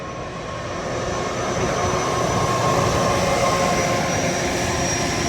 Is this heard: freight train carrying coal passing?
yes